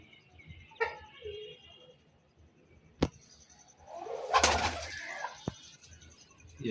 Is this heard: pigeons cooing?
yes